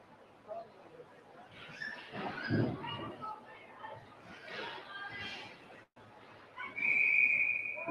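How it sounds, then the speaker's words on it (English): A referee's whistle blows one sustained, piercing blast at a 14U youth ice hockey game, cutting sharply above arena crowd murmur and rink noise at the end. "Whistle here"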